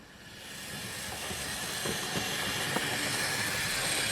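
A Hornby GWR 2800 tender-driven model freight locomotive runs around a layout, its steady motor hiss and whirr building slightly, with light rhythmic rail clicks near the end.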